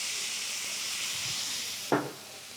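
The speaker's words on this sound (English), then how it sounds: "all with the water hitting the pan, all those aromatics are starting to come out" Saffron water poured into a hot pan for Iranian jeweled rice hisses and sizzles steadily, with a sudden sharper burst of sizzle near the end as more liquid hits the pan.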